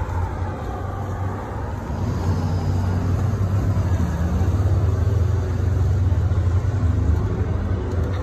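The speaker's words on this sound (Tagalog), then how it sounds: "maragas ang mga sasakyan." Steady road traffic of cars on Banais Boulevard in Panorama City, a continuous low rumble of engines and tyres that swells gently, heard from the roadside with no voices.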